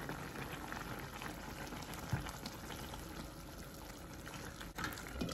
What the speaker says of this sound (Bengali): এটা একদম ভালো মতো বলক উঠো